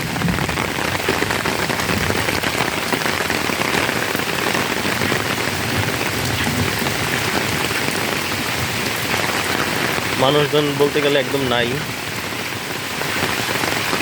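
Heavy rain pours steadily on surfaces along an empty roadside under dark clouds, a constant close hiss for the whole stretch, with someone speaking briefly over it near the end.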